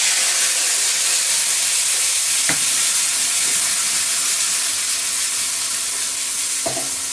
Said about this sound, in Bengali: মাছ ভাজার যে তেলটা রয়েছে, এখন এটার মধ্যে ভাপিয়ে নেওয়া আলুগুলি নুন হলুদ দিয়ে ভেজে তুলে নিচ্ছি